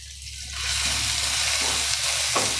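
Ginger, chili and garlic paste dropped into hot oil, a bright continuous sizzle that jumps up loudly and keeps crackling close by.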